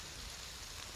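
Steady, faint rain in a video game hisses in a soft, even wash of noise.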